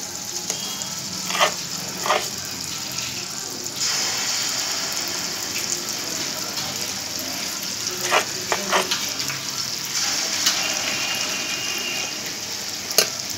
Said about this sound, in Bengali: আমি থালাতে ভাজছি